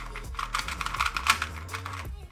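New budget 2x2 puzzle cube, a QiDi or MF2, being turned for the first time: a quick run of light plastic clicks and clacks, close and crisp, in an uneven rapid rhythm.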